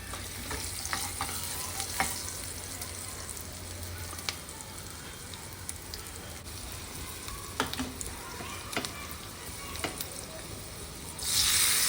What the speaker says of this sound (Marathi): लसूण टाकले तुकडे जे आपण केले होते